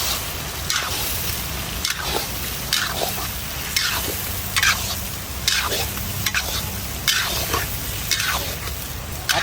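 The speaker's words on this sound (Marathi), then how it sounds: "आता आपण याच्यात कपुरे टाकून घेऊ। कपुरे छान असं आपण आता परतून घेऊ त्यांना।" Lamb testicles sautéing in a thick masala in a pan produce a strong sizzle broken by regular rhythmic scraping strokes of stirring, roughly one every second, close and loud with no talking.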